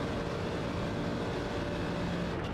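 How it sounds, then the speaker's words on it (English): A Porsche 911 RSR racing engine in the iRacing sim, a dense, steady, loud engine drone held at constant pitch throughout. "Scream of the RSR is so unique."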